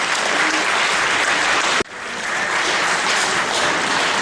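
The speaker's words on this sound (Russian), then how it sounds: "ваши аплодисменты" An audience at a folk song festival in Ivanovo applauds a performer with dense, even clapping that cuts off sharply, then resumes and continues steadily.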